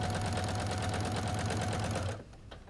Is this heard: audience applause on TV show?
no